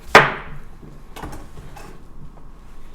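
A knife thuds sharply once onto a cutting board as it cuts an end off a peeled organic cucumber, followed by a couple of softer knocks and handling noises.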